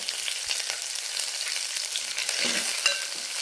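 Onion and curry leaves frying in a pan, a steady close sizzle with a brief stirring scrape partway through and no voices.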